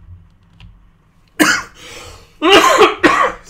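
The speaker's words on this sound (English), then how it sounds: "I've had a bit of a cough recently." Three sharp, separate coughs from a person indoors, the first alone and the last two close together, loud against an otherwise quiet room.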